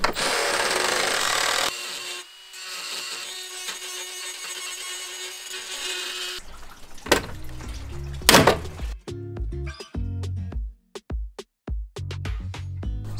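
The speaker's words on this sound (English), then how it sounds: "No, don't drill holes into that car." A power tool drills holes into the metal body of a van for security plates, with a loud steady whine at first, then a quieter stretch and a run of short sharp bursts and knocks.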